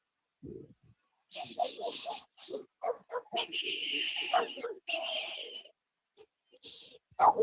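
A dog whimpers, yips and gives short barks up close in a string of excited bursts with gaps between them, ending in a louder outburst.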